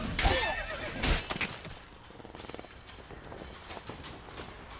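A horse whinnies loudly near the start in The Witcher 3 video game, then another neigh follows amid scattered hoof clatter and rustling.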